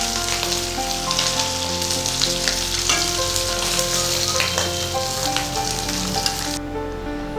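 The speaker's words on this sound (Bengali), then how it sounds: "আমি হালকা করে মাছগুলোকে ভেজে নিয়েছি" Fish frying lightly in oil in a kadai for a Bengali fish curry, a steady close sizzle and crackle with small pops running throughout, no talk.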